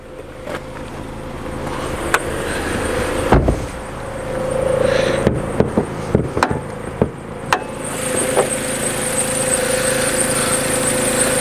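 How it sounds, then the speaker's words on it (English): A car engine idles steadily close by, a low even hum with a few sharp clicks and knocks scattered over it. "Very smooth engine ticking over there."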